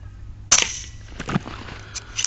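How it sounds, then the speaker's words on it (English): A single sharp rifle shot from a gun fitted with a night vision scope at a 15-yard target, a loud close crack followed by a brief fading tail. "I'll take my first shot"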